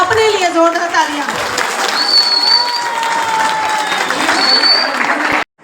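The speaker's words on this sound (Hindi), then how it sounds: "एक बार अपने लिए जोरदार तालियां।" Loud applause from an audience at a Garhwali feature film event, steady clapping with some cheering and voices sustained for several seconds before cutting off abruptly.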